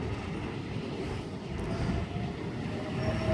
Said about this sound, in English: we have H28 now departing platform number 3 for essential service